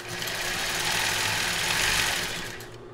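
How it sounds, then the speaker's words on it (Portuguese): A sewing machine runs steadily for about three seconds while backstitching at the end of a seam on a child's bra, a loud continuous whirring motor hum that winds down at the close. "Fazer retrocesso aqui."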